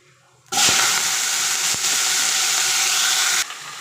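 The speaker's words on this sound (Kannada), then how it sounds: "ಇದನ್ನು ಇವಾಗ ಎಣ್ಣೆ ಒಳಗಡೆ ಹಾಕೊಳ್ಳೋಣ" Ground spices, curry leaves and garlic hitting hot oil for a simple vegetable curry, a loud steady sizzling hiss that bursts in abruptly and holds for about three seconds before cutting off.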